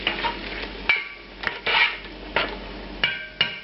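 Pureed tomatoes simmering down in a pan, a steady low bubbling sizzle broken by several sharp scraping and stirring knocks of a utensil against the pan, close by and with no talking.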